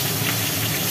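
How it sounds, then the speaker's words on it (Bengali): Catla fish heads frying in hot oil in a wok, a steady dense sizzle filling the whole moment at close range, with no talk. "তেল গরম হওয়ার পর কাতলা মাছের মাথাগুলো ভাজা হচ্ছে।"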